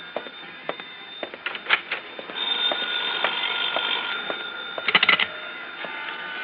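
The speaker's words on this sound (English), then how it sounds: "That's my phone." A telephone bell rings in repeated bursts, fairly close and loud, with no one speaking over it.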